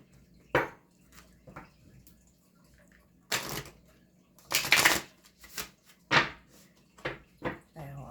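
Soft papery riffling bursts of a tarot deck being shuffled, several short irregular flurries near the listener, with quiet gaps between them.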